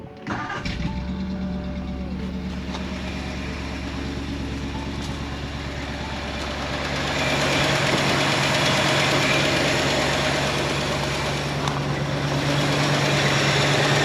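A Ford F250's 352 V8 cranks and fires within the first second, then settles into a steady, loud, rumbling idle that grows a bit fuller partway through, heard close with no voices.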